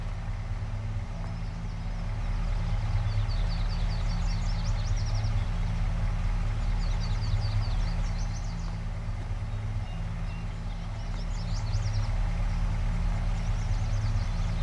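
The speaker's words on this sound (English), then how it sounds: "Get the engine warmed up." A tractor engine idles steadily in Farming Simulator 22, a constant low rumble that stays even throughout, with faint intermittent chirping sounds above it.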